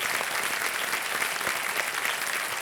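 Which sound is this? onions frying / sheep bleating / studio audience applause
studio audience applause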